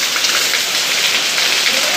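Heavy rain pours from a roof spout, a dense, loud, steady hiss and splatter of water that continues without a break.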